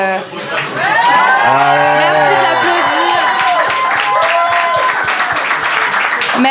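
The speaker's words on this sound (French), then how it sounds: "Merci de l'applaudir." Loud cheering and clapping from a live audience, with drawn-out whoops and voices rising over steady applause, then the sustained clapping carries on to the end.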